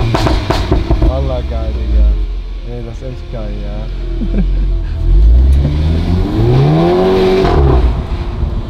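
A warmed-up VW Golf GTI with a 312 hp engine revs from inside the car, the engine note rising and falling in loud sweeps while excited voices talk over it.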